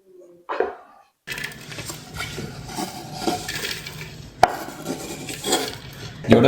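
A bowl of chopped carrot, apple and zucchini salad is stirred together, giving close clinks and scrapes of a utensil against the dish in an irregular rhythm, with one sharper knock partway through.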